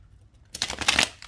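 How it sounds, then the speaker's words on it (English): A quick riffle of shuffling tarot cards, a brief papery flutter that starts abruptly after near silence and lasts under a second. "Give it another good shuffle."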